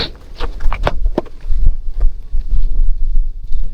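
Strong wind buffets the microphone with low rumbling gusts, joined by a few thumps and rustles.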